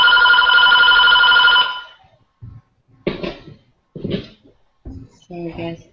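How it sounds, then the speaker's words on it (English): A mobile phone rings loudly with a steady electronic trill for nearly two seconds, then cuts off and voices talk in short bursts. "My phone never rings."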